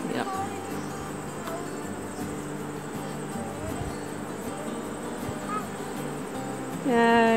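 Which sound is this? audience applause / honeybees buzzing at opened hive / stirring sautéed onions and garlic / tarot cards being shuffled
honeybees buzzing at opened hive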